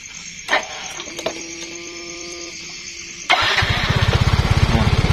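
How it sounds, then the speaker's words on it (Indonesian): A Yamaha Mio M3 125 scooter with a jumped battery and a weak charging system cranks with a whirring starter, then fires up at once into a close, steady, pulsing idle. "Coba saya akan nyalakan dulu motornya"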